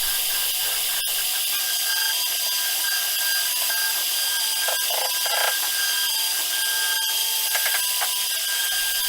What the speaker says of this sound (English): it's carving the little numbers, the scoring numbers for the cribbage board